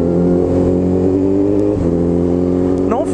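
A Honda CB 1000 motorcycle engine on the move, with a loud, close, continuous revving drone whose pitch steps down mid-ride and then climbs sharply in a quick rev at the end.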